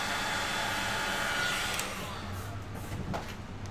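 A hair dryer blows steadily over freshly poured orange, yellow and white acrylic paint, a continuous close whoosh that softens slightly partway through.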